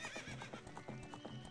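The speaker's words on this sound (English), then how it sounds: "Okay, Epona, you're a fast horse." Epona, the horse in The Legend of Zelda: Ocarina of Time, gallops with quick, steady clip-clop hoofbeats and lets out a whinny, all as loud, close game sound with no voices over it.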